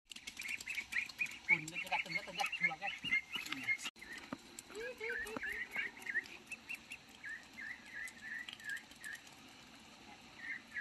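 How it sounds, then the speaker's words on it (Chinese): Ducks being herded home on a farm after a day of rain, with scattered quacks and chattering calls throughout, mixed with rustling and a voice speaking nearby. "现在又来看我们的鸭鸭"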